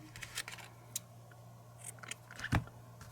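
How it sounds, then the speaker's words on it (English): Scissors snipping a yarn tail at the end of a crochet project: a couple of quiet, brief cuts over a low steady hum, faint and close, with no talking. "Cut the yarn tail."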